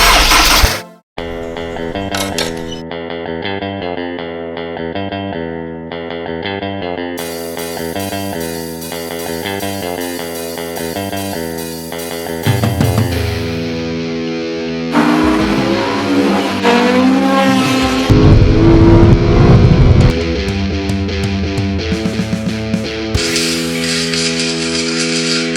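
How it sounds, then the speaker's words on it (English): Honda S2000 engine cranking over and running after timing chain service, a loud sustained engine note that rises and changes pitch in steps, with a rougher, noisier burst midway and no talk. "In this video, we are ready to crank over the engine."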